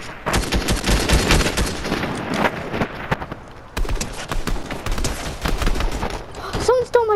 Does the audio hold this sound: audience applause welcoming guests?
no